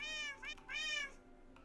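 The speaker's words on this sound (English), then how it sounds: "I'm gonna turn off the meow keyboard now" A keyboard that plays cat meow sounds, two drawn-out synthetic meows in quick succession, clear and close, followed by a quieter tail.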